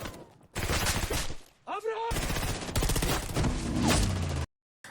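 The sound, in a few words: gunfire in an action film shootout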